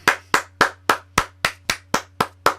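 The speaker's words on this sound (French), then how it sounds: "Alors là, je ne peux qu'applaudir." Ten sharp hand claps at a steady, slightly slow rhythm, close and alone over a faint low hum, at a historic outdoor site on the Plateau des Glières.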